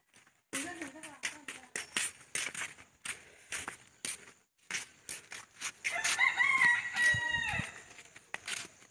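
Chickens cluck and a rooster crows at a cold rural village spot near a temple, the crowing rising clearly toward the end, with a person talking over much of it.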